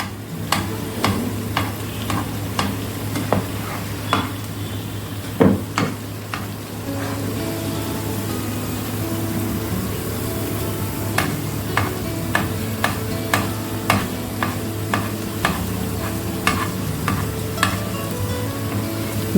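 Chicken cutlets frying in a pan at home, a steady close sizzle running throughout, punctuated by regular light clicks and taps of a utensil turning the pieces.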